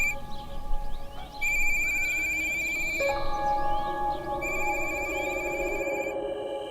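A telephone rings unanswered inside a home, its repeated trilling bursts sounding in a regular on-off pattern over a soft background drone, with no voices.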